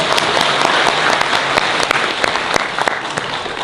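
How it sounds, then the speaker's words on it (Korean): Crowd at a political rally in Korea claps loudly and continuously, dense close applause with scattered sharper individual claps throughout and no talking. "박수 한번 치시죠?"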